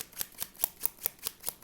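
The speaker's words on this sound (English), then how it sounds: "Now I gotta shuffle these damn machete cards and shit." Tarot deck being shuffled by hand, a quick run of about seven crisp riffling snaps spaced evenly apart, close and fairly quiet with no talking.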